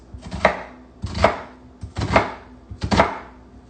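A kitchen knife chops chickpea-salad ingredients on a cutting board, with four quick bursts of rapid knocking evenly spaced and close by, and no talking.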